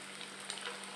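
Rava gulab jamun made from semolina cooked in milk frying in hot oil, a soft, steady sizzle with faint bubbling crackles throughout a short moment.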